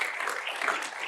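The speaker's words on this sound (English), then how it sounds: "That deserves a round of applause." Applause from an audience at a fireside chat, a dense steady wash of clapping that fills the whole brief moment at even loudness.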